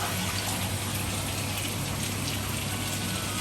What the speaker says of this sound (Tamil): தண்ணியை கொஞ்சம் ஊற்றிடுவோம்